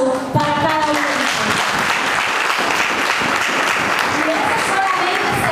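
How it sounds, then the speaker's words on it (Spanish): Loud, dense audience applause at a school district event continues for over five seconds. A voice can be heard at the start, and someone talks briefly over the clapping. "yo pido un fuerte aplauso para cada uno"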